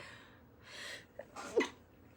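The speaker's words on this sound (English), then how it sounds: "Oh no, I have to sneeze." A single sneeze indoors, a short breathy intake followed by a sharp burst, moderately loud and close, with no talking over it.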